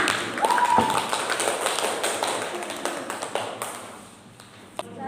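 A class gives applause for a student group, a dense run of clapping and tapping that thins out toward the end, with a brief voice near the start.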